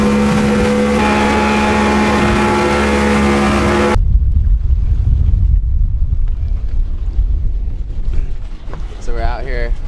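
A motorboat heading out to the Silverbacks surf break in Bocas del Toro, Panama: a loud, droning outboard engine runs steadily close by, then cuts to rushing wind and water noise with bumps.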